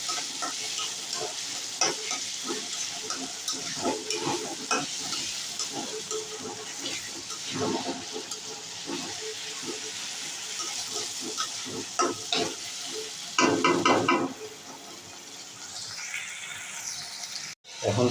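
Egg bhuna frying and being stirred in oil with onion, garlic and tomato, a steady close sizzle with frequent scraping stir strokes throughout and a brief louder burst near the end.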